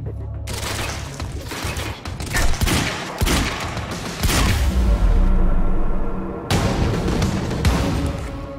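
Loud, close gunfire in Quantum Break, heavy bursts of automatic shots and sharp cracks that come in rapid volleys with booming impacts and a few short gaps between barrages.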